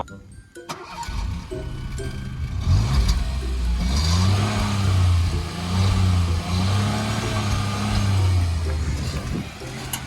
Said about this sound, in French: Est-ce que tu nous ferais pas un petit allumage moteur pour nous amener en enfer?